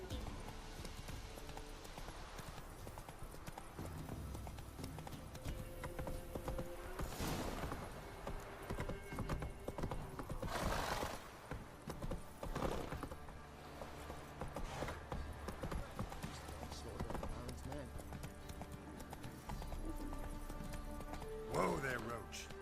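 Roach, the horse in The Witcher 3, gallops with a rapid, steady clip-clop of hoofbeats, and a whinny rises near the end, over game sound effects and intermittent speech.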